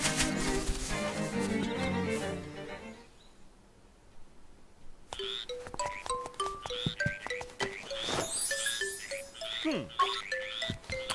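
Frogs croaking in The Legend of Zelda: Link's Awakening, a run of short bright game-sound calls after a dense burst of music, stopping and starting in a quick rhythm with no voice over them.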